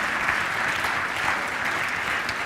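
A church congregation applauds during a French-language celebration service, a steady wash of many hands clapping at once, dense and continuous throughout without any talk over it.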